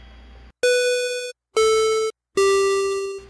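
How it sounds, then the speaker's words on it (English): Game Boy-style square-wave channel with an envelope, played from a MIDI keyboard through a GBA-to-MIDI cable: three loud, clean sustained bleeps separated by short silences, each slightly lower or higher in pitch. "as you can hear, it makes fairly standard Game Boy-ish bleeps"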